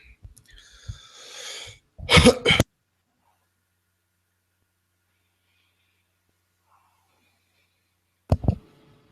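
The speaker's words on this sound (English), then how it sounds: "I can't get my throat clear" A person clears their throat and coughs in a few harsh bursts: a raspy rattle, then a loud cluster of sharp coughs, a long silence, and one more brief cough near the end.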